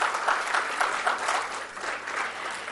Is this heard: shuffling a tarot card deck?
no